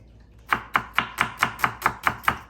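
A knife chops through pork on a cutting board for a stir-fry, nine sharp, evenly spaced thuds in a steady rhythm, close and clear with no talking.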